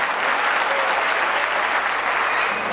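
Crowd applauding a young band at a Newroz night event in Istanbul in 1993, a dense continuous roar of clapping from many hands, loud and even throughout.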